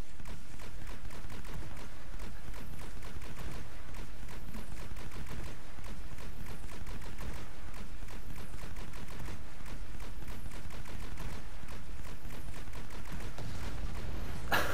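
Rapid weapon fire in the shooter game Planetside 2, an Aphelion or Vulkan gun, with dense repeated bursts running loud and steady through the whole stretch.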